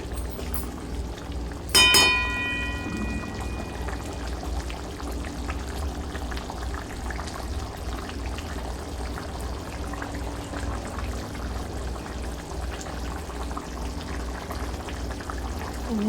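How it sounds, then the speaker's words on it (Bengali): Curry gravy with paneer bubbling in a pot, a steady low simmering burble running throughout with a brief sharp clink near the start. "দেখতেই পাচ্ছ ঝোলটা বেশ ভালোভাবে ফুটে এসছে।"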